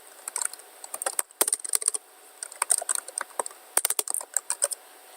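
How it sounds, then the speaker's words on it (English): Keys clatter on a computer keyboard as a command is typed in Minecraft, quick bursts of close, crisp keystrokes with a few short pauses between runs. "If I type this, it will set my spawn point."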